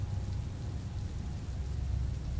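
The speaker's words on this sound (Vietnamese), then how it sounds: "tiếng mưa rơi đì đùng ngoài hiên nghe mỗi lúc một lớn" Steady rain falls outside on a porch at night, a dense even hiss with low rumbling, continuous and moderately loud with no voices.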